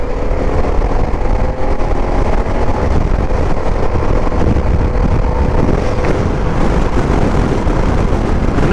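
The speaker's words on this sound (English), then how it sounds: "There's all that wind" Heavy wind noise roars continuously while riding a Harley Davidson Pan America motorcycle, a loud dense rush with engine rumble beneath and no talk.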